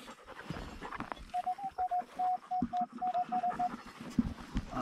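A metal detector sounds over a large buried metal target at an old cellar hole, giving a string of about a dozen short, evenly spaced beeps, fairly faint among rustling and handling noise.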